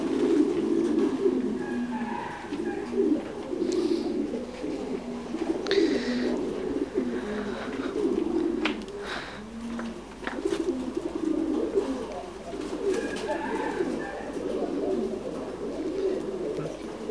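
A flock of Thai Titan meat pigeons coos continuously in a farm pen, dense overlapping low calls with occasional flutters, and faint talk is heard at times.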